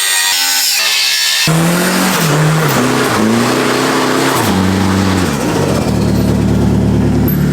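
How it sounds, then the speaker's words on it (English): A turbocharged van engine cranks, catches on a cold start, then revs up and down several times before settling into a loud, rough idle close by, with no voices. "Not bad for a cold start."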